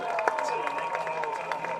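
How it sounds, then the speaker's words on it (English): Spectators at a Garrard County versus Lexington Catholic high school football game applaud and cheer the 2015 dance team, a dense, continuous wash of clapping and crowd noise with faint tonal sounds beneath. "Let's give them a big round of applause."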